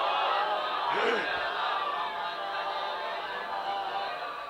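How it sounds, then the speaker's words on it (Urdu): A majlis congregation loudly reciting salawat in unison, a sustained crowd of voices swelling near the start and then holding steady, fairly distant and reverberant with no single speaker standing out. "کوشش کرو بواز بلند صلوات۔"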